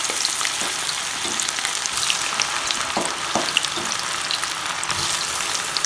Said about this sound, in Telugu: ఇది ఇప్పుడు డీప్ ఫ్రై చేసుకుందాము